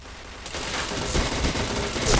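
Gunfire in the first-person shooter Point Blank, a dense fusillade of rapid shots and bursts that starts abruptly after a brief lull and keeps rolling loud and close throughout, with no talk over it.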